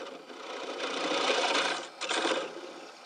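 A scraper cuts into the spinning center of a wooden bowl on a lathe, producing a raspy scraping whir that swells and fades in two passes with a short break between, close and moderately loud.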